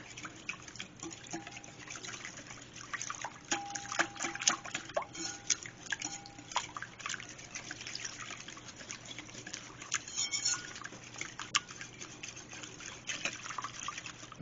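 Wet muffin ingredients are stirred and poured together in a kitchen, giving faint, irregular liquid drips and trickles with small clinks, close but quiet, with no talking.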